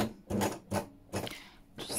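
A sewing machine stitches fabric for a junk journal cover, giving short, quiet mechanical bursts of whirring, about four brief runs separated by pauses, close and faint.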